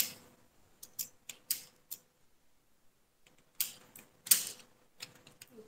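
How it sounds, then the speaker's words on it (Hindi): Computer keyboard typing in a classroom-style lesson, sharp separate key clicks in an uneven rhythm with a quiet gap midway, then a denser cluster of taps, close-miked and fairly clear. "अब आप यहाँ पे टाइप कर लेंगे वेलकम।"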